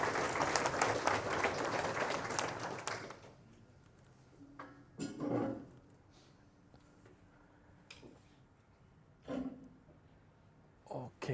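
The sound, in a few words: audience welcome applause for a speaker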